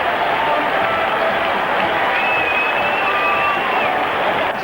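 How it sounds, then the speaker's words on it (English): A vast football crowd roars steadily at Wembley Stadium during a 1960s Manchester United match, a dense, unbroken wall of cheering and applause that stays loud throughout. "That's some of this vast crowd at Wembley."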